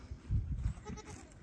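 Pregnant goats in a farm barn bleating, a few short nasal bleats close by in quick succession, then fading into quiet room noise with no talking.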